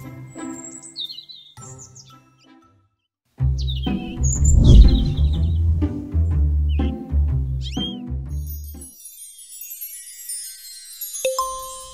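A cartoon cat meows in a series of loud, close calls against chirping, tweeting sounds, with a bright shimmering magical effect rising near the end.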